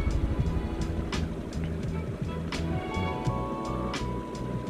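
A scooter engine idles and is throttled, a steady low motor rumble filling the whole stretch, close and fairly loud, with faint outdoor noise around it.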